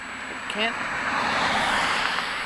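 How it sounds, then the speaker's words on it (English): Cars pass along a busy roadway in a steady, loud wash of tire and engine noise that swells near the middle, heard up close from the roadside with a faint voice briefly underneath. "Can't really hear much over the sound of the cars driving by."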